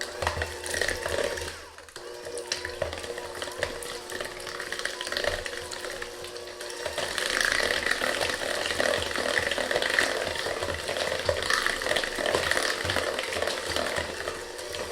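Grated citrus rind and sugar being mixed in a bowl for a slab pie, a continuous gritty scraping and stirring that grows busier and louder partway through, no talk.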